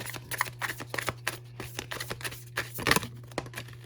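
Tarot cards drawn from a deck, giving soft, close papery slides, flicks and shuffling rustles in quick irregular bursts over a faint steady hum.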